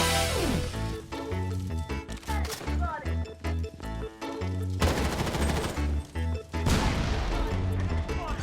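Rapid bursts of gunfire in the mobile battle royale shooter BloodStrike crackle over a dense bed of music and effects, with loud, repeated shots and explosive hits throughout.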